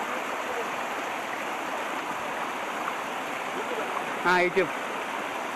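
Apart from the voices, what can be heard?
Sunnappugadda waterfall, rushing water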